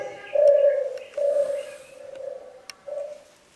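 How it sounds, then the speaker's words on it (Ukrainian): Dove cooing alone in a quiet setting, four soft, low, drawn-out coos with brief pauses between them, fairly near and clear. "Ой, голубонька, яке воркотіння твоє хороше."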